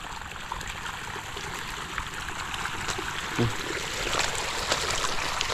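Water leaking from a crack trickles and gurgles steadily, close by, with a soft splashy texture and a small burble partway through.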